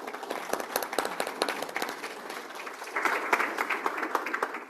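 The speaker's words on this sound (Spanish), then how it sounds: "Sin más, por favor, un gran aplauso para el Dr." Audience applause for a speaker at a geotechnical design lecture: dense, steady clapping from a crowd throughout, swelling a little louder toward the end, with no talk over it.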